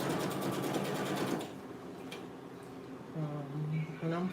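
Sewing machine stitching small dog clothes, a fast steady run of needle strokes for about a second and a half that then stops, with a voice speaking afterward.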